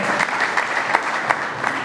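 Applause from a Baptist gathering, a brief burst of dense, lively clapping with a few sharper peaks, steady and fairly loud throughout.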